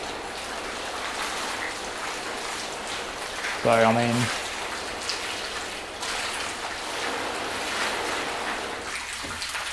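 A lower-pressure water spray hits coated car paint during a test of Gyeon, Meguiar's hybrid and CarPro ceramic coatings, a steady close hiss of water spattering on the panel while someone talks briefly over it.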